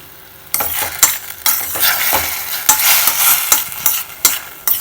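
Tomato is stirred and fried in a pan for mushroom curry, with loud repeated scraping strokes of a spoon over a continuous close sizzle.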